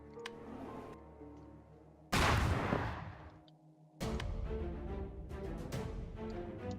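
Cannon fire from airship ground defenses in the video game Airships: Conquer the Skies, two heavy booming blasts a couple of seconds apart over a sustained game music and ambience bed.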